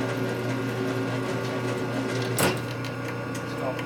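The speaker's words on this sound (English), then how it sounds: "Threads are getting cut deeper." Lathe cutting threads on a steel step stud while repairing a stripped rocker arm stand bolt, giving a steady close mechanical hum with a faint scraping tone and one brief sharper knock.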